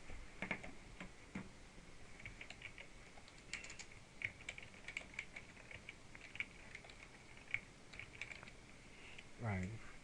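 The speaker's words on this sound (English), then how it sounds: "So to do that, first thing you type in a name." Keys clattering on a computer keyboard as a name is typed into Microsoft Access 2010, quick irregular clicks close up over a faint background hiss.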